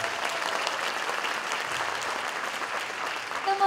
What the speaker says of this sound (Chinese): 我们给他一个掌声。